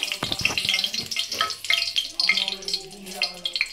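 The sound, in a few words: dried red chillies, bay leaves, cumin sizzling in hot oil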